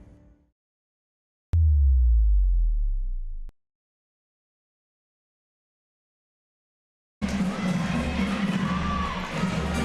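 Crowd noise fills the gym at St. Mary's Central High School in Bismarck before a high school volleyball match, a broad murmur of voices in the last few seconds that follows a loud sustained tone and a stretch of silence.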